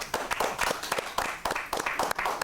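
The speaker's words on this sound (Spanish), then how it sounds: "Un aplauso a esas mujeres, señores" An audience applauds the first women to graduate as engineers, a brief, close burst of scattered, uneven hand claps with some murmuring voices underneath.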